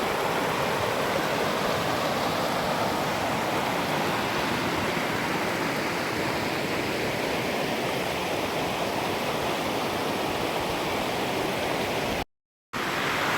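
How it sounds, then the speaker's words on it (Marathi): Overflow water from a village dam rushes down in a loud, dense, unbroken roar, close by and steady, cutting out briefly near the end. "ओव्हरफ्लो जे पाणी जास्त झालेलं पाणी बाहेर येतं त्या ठिकाणी आपण उभे आहोत"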